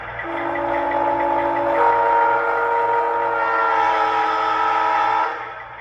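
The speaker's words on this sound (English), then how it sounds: "I also have a long horn in here." An Aristocraft U25b model locomotive fitted with a Zimo sound decoder sounds a long, steady multi-tone horn blast for about five seconds. The horn is loud and close, then cuts off, with no voices.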